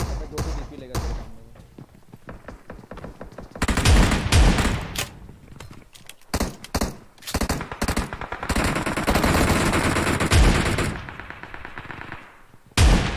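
Video game gunfire, with bursts of rapid automatic shots and single loud cracks, sounds close and loud throughout, with players talking excitedly over it.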